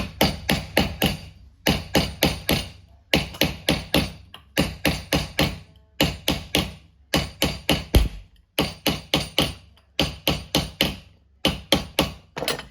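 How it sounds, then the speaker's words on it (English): Silver for a Fastnet Lighthouse piece is hammered on a metal stake to flatten it, with loud, close, ringing metallic blows falling in quick bursts of three to five, repeated steadily with short pauses. "I need to go on a stake like this here and start to flatten that down"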